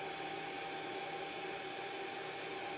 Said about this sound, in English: You then take your hairdryer.